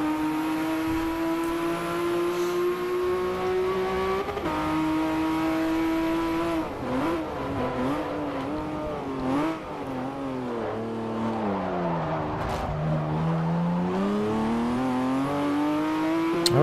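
Porsche 911 GT2 RS (997) engine in the Forza Motorsport 4 racing game, a loud continuous drone that climbs through revs, dips on lift-off and downshifts, then pulls up again, with faint tire noise and no talk.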